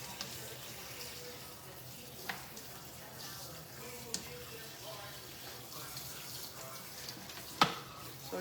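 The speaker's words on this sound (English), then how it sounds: "Then I'm gonna run some water to go cook it." Water runs steadily from a kitchen tap while dinner is prepped, a soft continuous hiss with a few small clinks and knocks over it, fairly faint and without talk.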